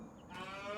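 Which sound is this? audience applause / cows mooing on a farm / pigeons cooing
cows mooing on a farm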